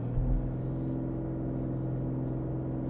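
A 2021 BMW M340i launching hard with Sport Plus and launch control, its engine note a steady, dense low rumble with strong harmonics, close and loud throughout with no talk.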